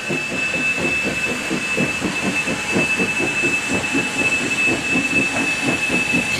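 KAI toy train running with a steady rhythmic clickety-clack of wheels and a high electronic whine, repeating evenly throughout at close range, without any talking.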